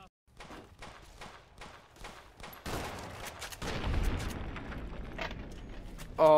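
Mauser gunfire in Fallout: New Vegas: a quick run of crisp shots, then a heavier blast with a long rumbling tail and more rapid firing. Loud, with no talking.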